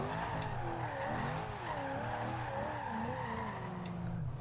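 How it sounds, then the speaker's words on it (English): A Chevrolet SS drifting in Forza Horizon 2, its tires squealing in long wavering skids over a steady engine drone, loud and continuous throughout. "This is very easy to slide and to drift."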